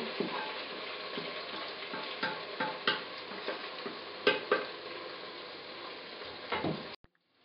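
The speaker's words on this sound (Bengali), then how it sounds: "আমার রান্না করা মাংসগুলো এটার সাথে মিশিয়ে দিচ্ছি চার পাঁচ মিনিট মাংস কষাবো" Cooked meat frying and being stirred with browned onions in a pot for Bangladeshi tehari, a close, steady sizzle with rhythmic scraping strokes and light utensil knocks, ending abruptly, with no talking.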